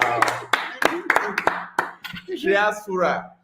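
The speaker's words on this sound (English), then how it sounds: "Let's clap for three Afura" A burst of hand clapping from a small group, sharp irregular claps mixed with cheerful talking and exclamations over the top.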